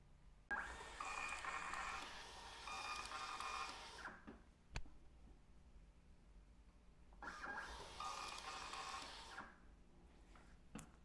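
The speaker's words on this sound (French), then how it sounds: "vous voyez ici l'imprimante Godex, le film transfert thermique," A Godex thermal transfer printer runs while printing fruit tree labels, giving two separate whirring bursts of mechanical printing with a sharp click and a quiet pause between them.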